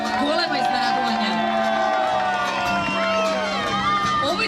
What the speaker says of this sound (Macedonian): Овој дел од публика овде ми е најбучен